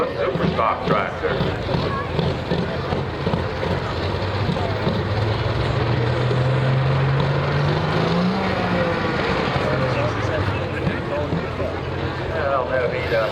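A Case 540 super farm tractor roars through a run at a tractor pull, its engine note rising and then falling while an announcer talks over the noise of the crowd.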